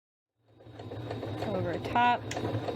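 Sewing machine stitching a tote bag at standard stitch length, with a steady low mechanical whir and rapid needle chatter running continuously, briefly rising into a higher-pitched buzzing burst partway through.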